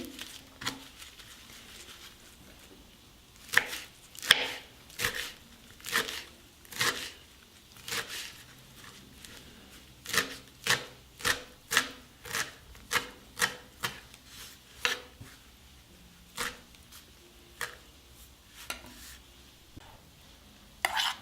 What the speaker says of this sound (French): J'ai ici de la menthe et du basilic que je vais couper.